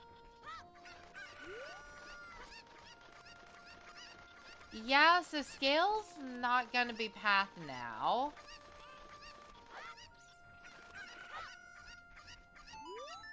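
Cuccos in The Legend of Zelda: Ocarina of Time squawk and cluck in a loud burst of overlapping calls, surrounded by video game music tones, while a person talks.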